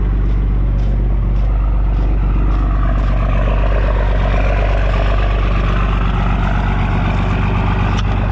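Dodge truck with a worn-out 12-valve diesel engine idling, a loud, steady low rumble with a rhythmic clatter running continuously close by.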